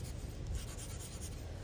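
A Crayola light blue colored pencil colors on paper, making a soft, continuous scratchy rubbing at close range with steady strokes and no talking.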